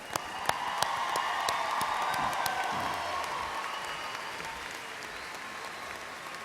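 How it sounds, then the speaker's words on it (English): A large audience at a university graduation ceremony applauds the May 2016 graduates, a steady, dense wash of clapping that holds throughout with a few sharper individual claps standing out. "a round of applause for the May 2016 graduates from Texas A&M International University"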